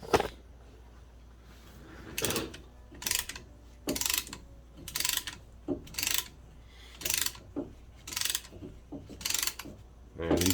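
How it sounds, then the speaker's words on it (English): A ratcheting brake caliper piston compressor tool clicks in repeated short bursts about once a second, close and crisp, while the piston is pushed back on a 2006 Dodge Grand Caravan's front brakes. "But I like the ratcheting mechanism inside"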